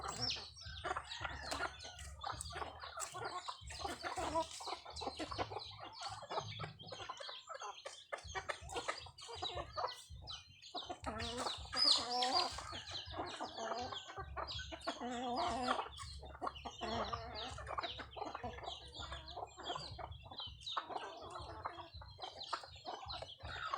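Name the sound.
chickens clucking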